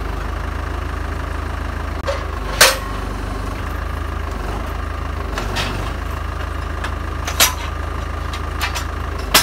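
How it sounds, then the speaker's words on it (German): A boatyard slipway cart is slowly raised on Hiva Oa, a steady low mechanical drone like an idling engine running throughout, with a few sharp clanks and knocks scattered over it. "Jetzt wird der Wagen langsam hochgefahren."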